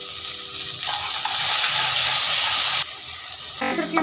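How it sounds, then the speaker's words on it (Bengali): Tomato, ginger, garlic and cauliflower fry in a pan with a steady, close sizzle that swells loudly midway, then drops back with light stirring clatter near the end. "সবশেষে দিয়ে দেবো 3টে ফুলকপির টুকরো। এর মধ্যে সামান্য লবণ দিয়ে ভাজা ভাজা করে নেব।"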